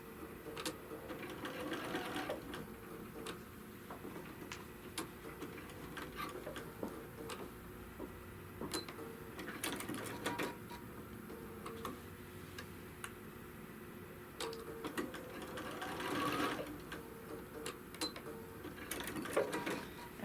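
A sewing machine quilt-tacking across intersecting seams of a quilt, running in repeated bursts of rapid needle clatter with short pauses between, close and steady.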